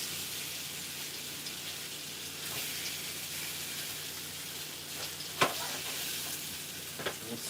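A glaze sizzles steadily in a pan on the stove for a bruschetta dish, with a faint spoon scrape and one sharp clink as it's stirred.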